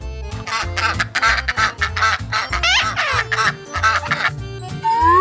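A duck quacks in a rapid series of loud, nasal calls, close and repeated with short gaps, with a brief squeaky rising sound near the end.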